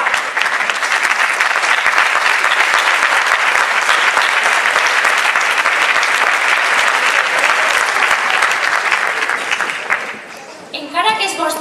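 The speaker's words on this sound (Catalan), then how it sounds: "Despedim amb un fort aplaudiment als mantenidors de les falleres majors, Rosa, Rebeca i Borja." Loud, sustained applause from a large crowd at a falla exaltation ceremony for the falleres majors, fading near the end as a voice begins speaking over it.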